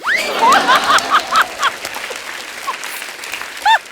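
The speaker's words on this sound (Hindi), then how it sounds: "जब मैं जीतता हूँ ना तो लोग ऐसे ताली बजाते हैं" Audience applause and chuckling at a comedy talk show, several loud bursts of clapping and laughter rising and falling, with pitched squeaks or whistles cutting through the crowd noise.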